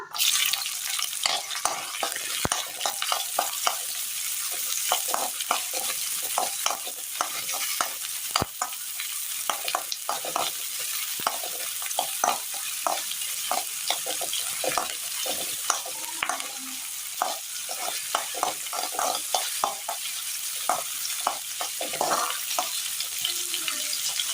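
Steady crackling sizzle of chopped shallots frying in hot oil, with frequent sharp pops and spatters throughout and no talking.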